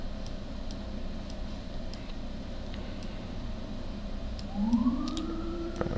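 Emergency siren outside on a New York street, faint and distant under a quiet room hum, then rising into a wailing sweep near the end.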